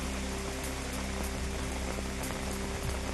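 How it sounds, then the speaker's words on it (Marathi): Heavy monsoon rain in Shahapur taluka pours down in a dense, steady hiss of drops striking surfaces, close and continuous with no voices. "शहापूर तालुक्यामध्ये मुसळधार पाऊस सुरू"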